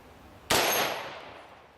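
A green tip rifle round strikes a titanium plate outdoors with one sharp, loud crack and metallic clang, followed by a ringing decay lasting about a second.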